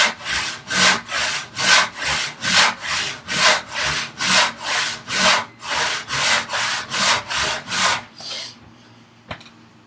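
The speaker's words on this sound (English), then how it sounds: "Yes, Brad, I use a handsaw." A handsaw cuts through a wooden board in about seventeen steady back-and-forth strokes, close and rhythmic, followed by a brief quiet clatter.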